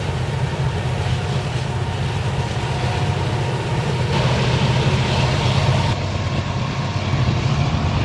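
A train rumbles past steadily with a continuous low roar and wheel noise, loud and close, without pause for the whole stretch.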